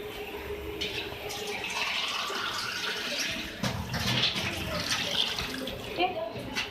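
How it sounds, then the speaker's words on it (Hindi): Water poured from glasses into a pot for dhaba-style beef stew, a splashing, gurgling rush that rises and falls over several seconds, close by, with faint background sounds. "अब इसके साथ ही 2 गिलास पानी ऐड करेंगे।"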